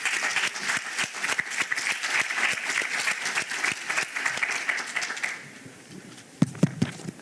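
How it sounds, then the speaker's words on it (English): A conference audience applauds a panel in a dense burst of clapping that holds steady for about five seconds, then fades out to a few scattered, isolated claps near the end. "a last round of applause for our hot off the press panel"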